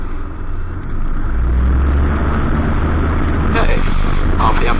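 Small training aircraft engine running at takeoff power during a student pilot's first solo, a loud steady drone with broadband roar, with radio and cockpit voices mixed in throughout.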